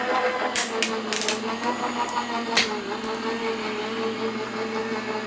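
A Gemini die-cutting machine feeding a thick cutting die and paper through its rollers, with steady mechanical grinding, sharp clicks and clacks near the start, and a continuous motor hum underneath.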